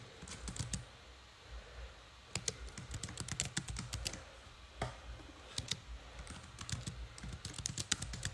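A password being typed on a computer keyboard: soft, close key clicks in irregular bursts and short pauses, quiet and with no talking.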